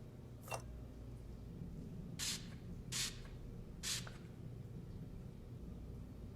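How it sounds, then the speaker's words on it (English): A few short sprays of luminol hiss onto a wall, four quick bursts spread across a quiet indoor room tone with a low hum underneath. "Anna, spray the wall with luminol."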